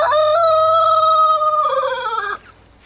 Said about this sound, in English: the alpha male rooster